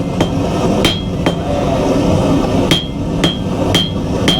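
A blacksmith's hammer strikes hot metal at a forge in sharp, ringing blows, about eight loud close hits spaced irregularly over a steady background roar.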